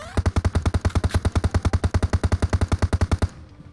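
Loud, close automatic gunfire from the mobile battle-royale game PUBG Mobile fires about two dozen rapid, evenly spaced shots in one sustained burst, then cuts off abruptly into a faint background.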